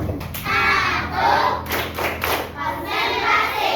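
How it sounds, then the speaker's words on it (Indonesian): Elementary schoolchildren in a classroom beat out a rhythmic group clap, sharp bursts of hand claps and thuds alternating with short pauses, loud and close, with voices mixed in. "Bapak ingin tepuk dulu yuk."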